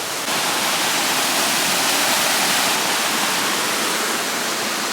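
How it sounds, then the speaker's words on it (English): A waterfall roars as a dense, constant hiss of falling water, loud and close, steady throughout without any voices over it. "That's where the waterfall occurs."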